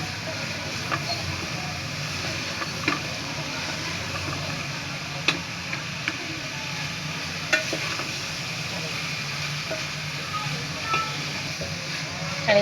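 A steady sizzle comes from a pan of aloo gobhi, potato and cauliflower, frying as a spoon stirs it, with occasional clicks and scrapes against the pan throughout.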